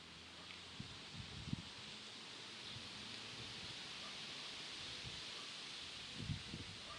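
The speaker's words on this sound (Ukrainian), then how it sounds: "Вітер шумить." Steady wind rustling through leaves, a constant soft hiss with a few faint low bumps and gusts, no voices.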